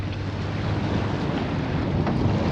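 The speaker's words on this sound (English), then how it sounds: "We've got a lot more wind than we thought out here." Strong wind roars out at sea aboard a fishing boat off Sussex, a loud, constant buffeting rush over the microphone mixed with the wash of waves and no talk.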